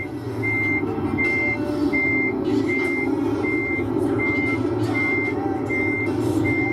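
A reversing truck in a video game beeps in an even, regular rhythm, about nine beeps over a low, steady engine rumble.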